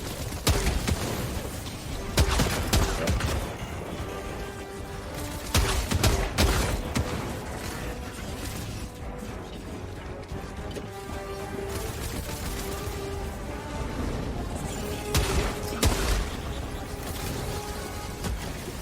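Grenade launcher firing in Helldivers 2, loud booming shots and explosions in bursts at several points against a constant din of battle, with no talk.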